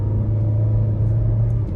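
A 2020 Jeep Renegade Longitude SUV with a 1.8 engine holds at half throttle, giving a steady, loud low drone with a constant hum and no rise in pitch.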